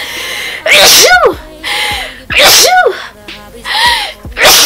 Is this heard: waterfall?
no